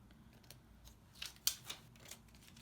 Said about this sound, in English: I'm going to trim again these edges so that I don't create any wrinkles